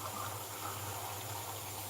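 Tap water running into a glass in a Dutch kitchen, a short steady gushing pour heard close up and alone.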